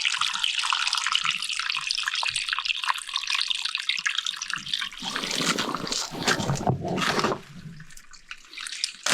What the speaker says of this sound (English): A lot of water coming down.